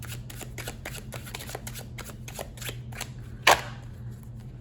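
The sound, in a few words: shuffling a deck of tarot cards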